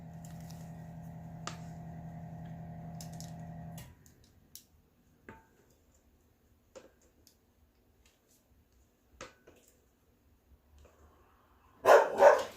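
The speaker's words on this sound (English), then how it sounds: "excuse the dogs." Dogs bark in a short, loud burst near the end, after a steady droning hum and a stretch of quiet scattered clicks, in a home kitchen during cake baking.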